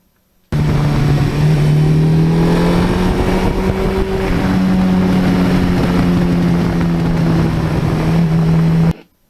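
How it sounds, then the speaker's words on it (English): A Suzuki GS1100E motorcycle engine heard as the rider backs off the gas, a loud close steady drone that shifts pitch slightly midway, under constant wind noise, then cuts off abruptly. "a wonderful sound of that GS when you back off the gas"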